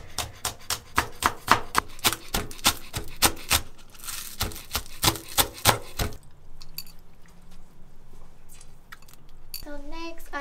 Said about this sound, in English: And the next part would be the spring onions. We also chop it into small pieces.